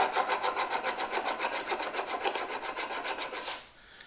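Steel blade drawn over a 4000-grit sharpening stone in steady back-and-forth strokes, a close, even rasping rub repeating about three times a second before stopping abruptly near the end.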